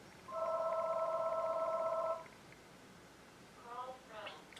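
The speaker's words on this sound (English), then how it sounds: "That's my mother's phone ringing." A mother's phone rings indoors, a long electronic ring tone heard once clearly and then in shorter bursts, somewhat distant and quiet over room noise.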